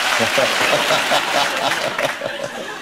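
Steady clapping from a television studio audience fills the clip, with some chuckling and voices mixed in throughout.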